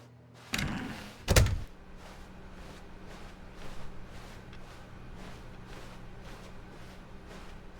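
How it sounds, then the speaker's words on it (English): A door opens in The Stanley Parable with a sharp thunk followed by a louder knock-like clunk in quick succession near the start, then a quiet office room tone with faint ticking. "When Stanley came to a set of 2 open doors, he entered the door on his left."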